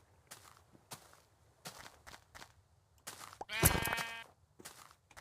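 A single loud video-game sheep bleat cuts through a series of light taps and footstep-like clicks, close and brief, with no talking.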